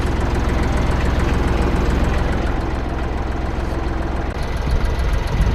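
A tractor engine runs steadily at idle, a loud, close, continuous low rumble with a knocking rhythm and no voices.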